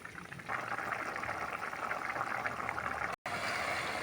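Grated carrot and sugar simmer in water for carrot halwa, a steady close bubbling and gentle boiling that holds evenly throughout, broken by one brief cut.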